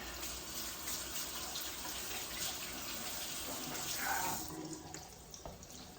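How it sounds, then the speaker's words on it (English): Running tap water splashing over hands being rinsed at a kitchen sink during chicken cutlet preparation, a steady close rush that thins out near the end. "I'm gonna just rinse my hands a bit"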